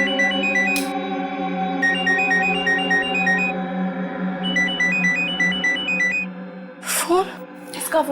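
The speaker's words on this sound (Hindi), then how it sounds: "उसी का फोन है।" A mobile phone plays a repeating melodic ringtone in short bursts, fairly close, over a steady background hum, and a brief rustle follows near the end.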